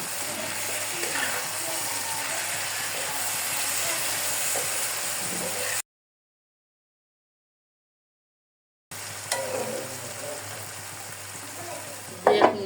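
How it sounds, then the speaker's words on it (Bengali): Food fries in a pot while being stirred, a steady sizzle with scraping spoon sounds, broken by a few seconds of silence before the sizzling and stirring resume. "ঢাকনাটা তুলে আর একটু লেড়ে দেবো"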